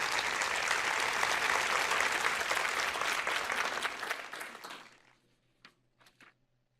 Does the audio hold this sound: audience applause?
yes